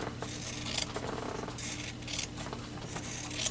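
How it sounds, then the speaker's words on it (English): Scissors snip and rasp steadily through material just outside a drawn marker line, with repeated close cutting strokes and no talk. "I'm gonna cut outside that line."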